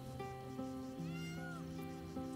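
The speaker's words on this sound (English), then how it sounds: "That cat!" A cat in Baldur's Gate 3 meows in a drawn-out, wavering call, heard alone over a steady bed of tonal game music.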